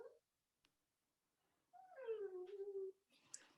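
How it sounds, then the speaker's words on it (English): A pet dog makes a short, faint whining vocal in the background of a room during a virtual rum tasting, rising then falling for about a second amid near silence. "Sorry about my dog woofing in the background as well."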